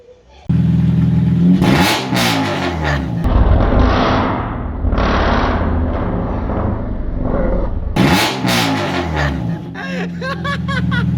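Honda Civic Type R fitted with an M2 Hornet exhaust revs loudly up close in repeated sharp bursts and a sustained roar, with pops and crackles between blips; excited voices are heard briefly near the end.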